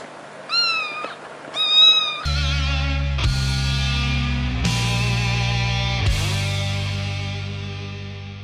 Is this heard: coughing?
no